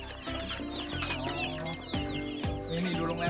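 Chickens cluck continuously in a coop at a rural Thai farmstead, several birds overlapping in busy, close chatter with a few louder squawks.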